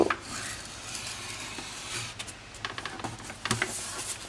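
Cardstock slides and rubs on a scoring board while the long sheet is scored at half an inch, giving soft, close scraping with a few light taps and no talking.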